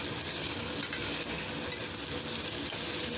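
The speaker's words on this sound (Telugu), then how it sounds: "ఆవాలు జీలకర్ర మాడిపోతుందని సిమ్లో పెట్టానండి." Mustard seeds and cumin frying in oil over a low flame, a continuous crackling sizzle with faint pops, close and even throughout, with no speech.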